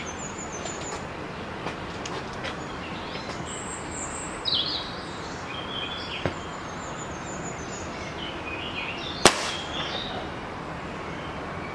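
A single sharp crack from an SMK PP700W air rifle shot rings out near the end over a steady outdoor hiss, with faint bird chirps scattered through.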